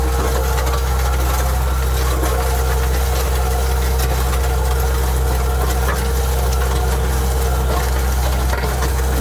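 A Kubota SVL75-3 compact track loader runs a McMillen auger digging a hole for tree planting, its diesel engine droning loud and steady at constant revs throughout, with a heavy low rumble and no speech.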